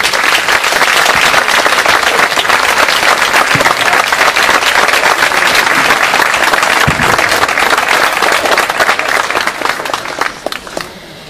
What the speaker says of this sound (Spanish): recibamos con un fuerte aplauso a su director, José María Navarro Fornier.